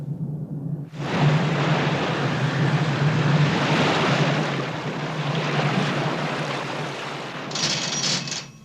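Calypso's outboard motors and reversed propellers churn at sea, a loud steady roar with a deep low hum underneath, starting abruptly and holding broadband noise, with a brief higher mechanical whine near the end.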